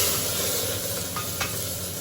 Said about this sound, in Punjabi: ਹੁਣ ਅਸੀਂ ਲਗਾਈਏ ਤੜਕਾ ਬਣਾਉਣ ਲੱਗੇ ਹਾਂ